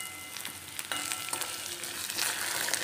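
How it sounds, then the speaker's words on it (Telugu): Okra frying in a pan, a moderately loud continuous sizzle and crackle with occasional sharper pops and stirring clicks, no talking. "సో బెండకాయలు ఆల్మోస్ట్ ఫ్రై అయిపోయాయి"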